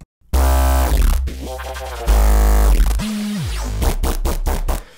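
Layered synth bass tones playing together, thick and sustained, with a low gliding bass note and rhythmic plucky hits toward the end.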